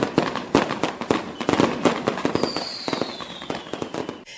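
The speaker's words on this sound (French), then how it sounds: "la ville de Kara a également connu le lancement des feux d'artifice" Fireworks bursting over the city of Kara for a New Year celebration: a rapid run of sharp cracking bangs and pops at a steady loud level, with one rising whistle streaking through the middle.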